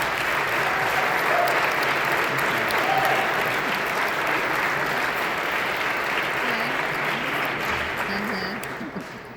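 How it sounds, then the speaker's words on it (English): A loud, steady wash of applause and cheering fills a high school honor band concert hall, sustained evenly for several seconds before tapering off at the end. "can we give a huge raucous round of applause to our families, our parents, our extended families for giving us the support they do"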